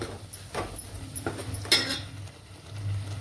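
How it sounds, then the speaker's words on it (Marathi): Ground masala for mutton curry sautéed in a pan, with a soft hiss of frying under a few close metallic spoon scrapes and clinks against the pan, quiet and uneven. "हा मसाला वाटलेला। थोडंसं 1-2 मिनिटं याला परतून घेऊ।"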